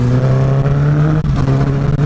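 Loud, close motorcycle engine revving hard with a strong steady low drone and brief dips between throttle blips, aggressive and rough-toned, no speech.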